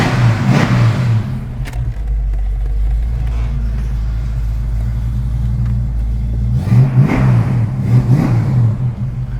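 A 1979 Cobra engine running through new open headers rumbles close and loud, swelling in two throaty revs near the start and end with a lower steady burble between.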